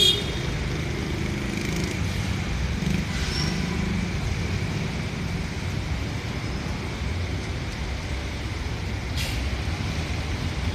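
Busy street traffic in Manila, with scooters weaving through, makes a dense, continuous rumble of engines and road noise that holds steady throughout, with brief faint higher tones rising above it.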